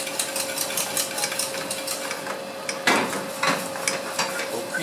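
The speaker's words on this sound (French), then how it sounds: "cuisson de la farine dans le beurre" Flour cooking in butter for a roux, a continuous fine sizzle and crackle with faint scraping and stirring clicks throughout, close and moderately loud, one sharper burst partway through, no talk.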